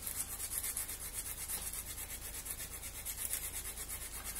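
Medium-grit abrasive rubs back and forth over a tab on a model part in quick, even strokes, a faint close-up scratchy sanding rhythm with no talking.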